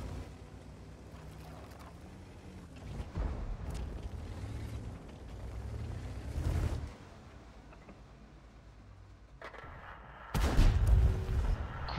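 Tank cannon shots in World of Tanks from a WZ-132: three heavy booms spaced a few seconds apart, the last loudest, over a steady low mechanical rumble of the engine and tracks.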